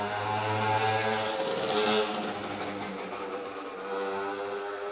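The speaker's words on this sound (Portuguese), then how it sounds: "Vocês ouviram a moto?" Motorcycle passing along an avenue outside a home, a broad engine drone with harmonic tones that swells around the middle and fades, steady and fairly loud throughout.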